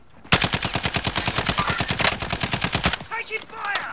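Rapid automatic gunfire from an assault rifle in the video game Call of Duty: Warzone, a loud sustained burst of evenly spaced shots lasting nearly three seconds before stopping, followed by brief quieter sounds.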